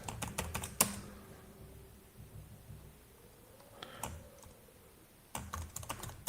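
Quiet bursts of typing on a computer keyboard, quick clusters of key clicks at the start and end separated by a long near-silent pause, close and faint.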